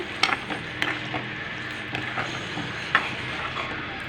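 Crushed kasuri methi being stirred into a finished okra masala curry, with soft, irregular spoon scrapes and light clicks over a faint, steady sizzle from the pan; no one talks.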